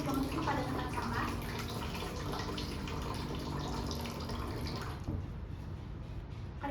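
Tap water runs steadily into a sink during handwashing, a continuous close splashing wash that thins out near the end, with no speech over it.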